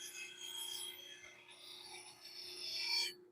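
A hand-held tool cuts a bevel on the bottom of a wooden bowl spinning on a lathe, giving a steady raspy scraping that runs continuously with a low machine hum beneath it, then cuts off abruptly near the end.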